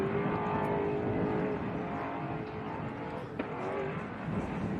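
Off-road race cars approach during the ARB Big Desert 480 desert race, a steady, distant engine drone that holds constant, with a faint sharp knock partway through.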